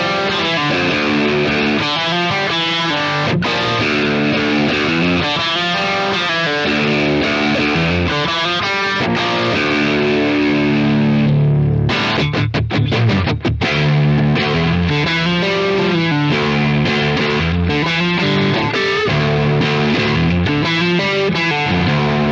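A distorted Fender J Mascis Telecaster electric guitar plays chugging rock riffs with heavy gain, loud and sustained, with sharp muted stabs partway through and no voices.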